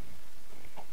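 A Minecraft chicken clucks in the game, with two short, soft clucks near the end of a brief moment over quiet background ambience.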